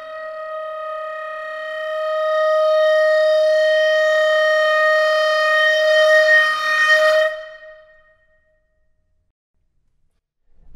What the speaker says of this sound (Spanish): usa también este recurso, el frulato, y suena de esta manera